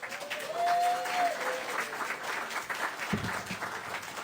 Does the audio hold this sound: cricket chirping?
no